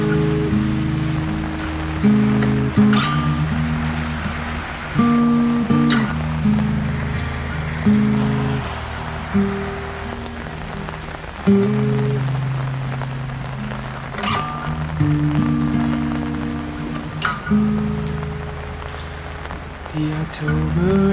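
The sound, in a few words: rain falling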